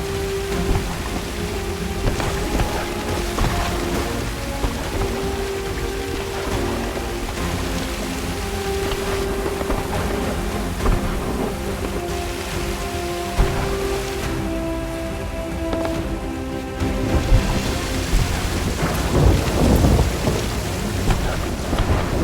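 Steady heavy rain pours throughout a stormy scene in the pirate video game Sea of Thieves, with rumbling thunder building and growing louder toward the end, and no voices.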